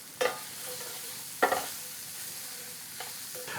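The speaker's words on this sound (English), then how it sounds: "And put these right in. Give it a good stir." Chopped cranberries are stirred into warm apple pie filling in a pan, with a few distinct scraping stirs and a soft simmer underneath, close and fairly quiet.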